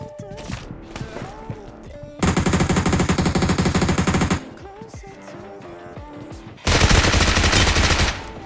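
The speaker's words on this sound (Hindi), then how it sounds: "ऊपर पे गोली चल रही होती है" Two long bursts of rapid automatic gunfire from the mobile game BGMI (PUBG Mobile), separated by quieter scattered thuds and effects.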